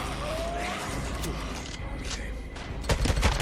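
Gunfire in the Days Gone video game as a zombie horde is shot at Crater Lake, bursts of shots over dense, noisy game ambience, with louder cracks near the end.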